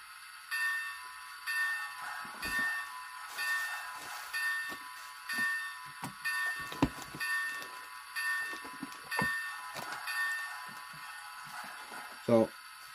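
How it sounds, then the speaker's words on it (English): A sound-module bell on an N scale Baltimore & Ohio EM-1 model locomotive rings in a steady repeating clang, faint and thin over a background hiss. "Let's do the bell."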